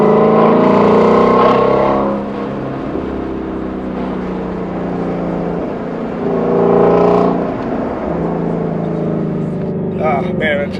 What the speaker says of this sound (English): Ford did an unbelievable job with this exhaust note.